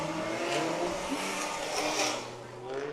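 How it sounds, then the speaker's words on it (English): A V10 race car with 488 cubic inches accelerating on a road course track, a sustained engine roar with shifting pitch, heard beneath a commentator talking. "So he continues to improve, sticking all that V10, 488 cubic inches of torque right to the tires."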